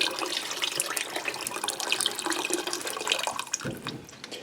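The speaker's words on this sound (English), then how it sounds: "I'm going to add about 4 more cups of water in there" Water pours steadily into a pot of chicken broth, a continuous close splashing and gurgling stream that thins out near the end.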